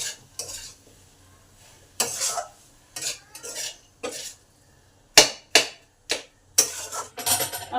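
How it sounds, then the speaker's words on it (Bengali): Chopped tomatoes and spices stirred in a pan while frying, with repeated scraping strokes of a spoon against the pan in uneven bursts and a soft sizzle between them, close up and without talk. "টমেটোগুলো কেটে এতে দিয়ে দিলাম। ভালো করে কষে নেব।"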